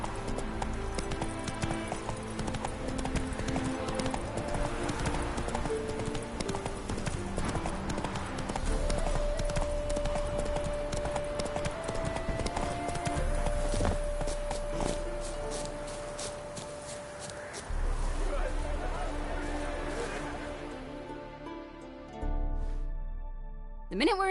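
Horse hooves clip-clop steadily in The Witcher 3 as the rider travels at a brisk gait. The hoofbeats sit under a game music score and some voice, with a long held tone partway through.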